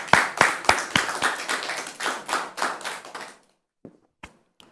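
A handful of studio audience members clap in short, uneven bursts on a French-language talk show, loud and close for about three seconds before breaking off into a few scattered final claps.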